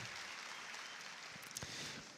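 An audience at a Campus Party Brasil tech conference talk applauds the speaker's parents. The clapping is a faint, steady wash that lasts throughout, with no voices over it.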